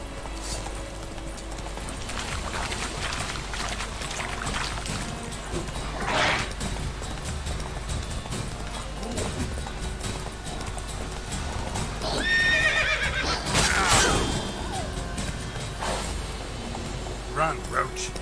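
In The Witcher 3, the horse Roach gallops with steady rhythmic hoofbeats, and a loud neigh rings out partway through, with a voice talking over the game sound at times.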